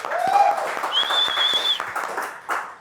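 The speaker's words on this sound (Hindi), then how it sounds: "मिर्ची के लिए तालियां एक बार guys." A small group of people clap in a radio studio, a brief burst of applause with talk and whistle-like tones over it.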